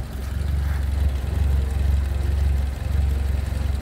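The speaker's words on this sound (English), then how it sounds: "sounds quite fit when she's revved up" A 1970 Rover 2000 SC classic car engine runs steadily with a low throbbing hum that swells and eases slightly as it revs, close by and continuous.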